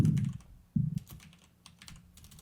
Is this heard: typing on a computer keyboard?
yes